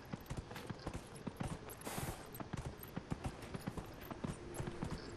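A horse gallops in the video game Dragon Age: Inquisition, with quick, rhythmic clip-clopping hoofbeats repeating steadily and fairly close.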